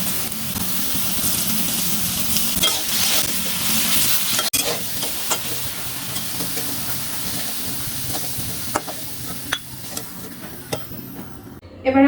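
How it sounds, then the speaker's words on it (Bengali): Potatoes frying in hot oil with turmeric and salt in a pan give a continuous close hiss and sizzle, broken by scattered clicks and utensil scrapes, with a sharp clatter at the end. "তেলটা গরম হয়ে গিয়েছে, এবার আমি আলুগুলো ভেজে নেব।"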